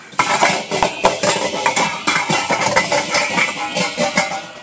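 Pots, pans and lids clatter and clink as someone rummages through a kitchen cabinet for a lid, a busy run of close metallic bangs and rattles with no talk.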